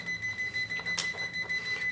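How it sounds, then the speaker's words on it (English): An Elikliv 360 green-beam laser level on a tripod, knocked far off level, gives rapid, faint, high-pitched electronic beeps in a repeating pattern over quiet background noise. "Now you hear that beep, that's telling me it's really, really unlevel."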